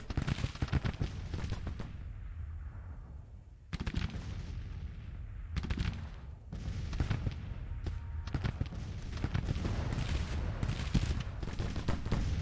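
Cannon fire in the Civil War strategy game Grand Tactician, from guns on a large slope aimed downhill. Booms and crackling volleys come one after another without a break, mixed with the noise of battle.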